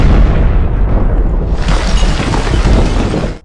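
A loud, booming explosion erupts at close range, a dense rumbling blast with crackling, shattering debris that sustains throughout before cutting off.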